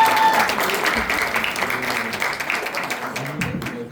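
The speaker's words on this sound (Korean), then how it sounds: "큰 박수 부탁드리겠습니다" Steady applause from a large audience fills a sports-hall political report meeting in Cheongju as a lawmaker is invited up, dense clapping sustained throughout with faint voices mixed in.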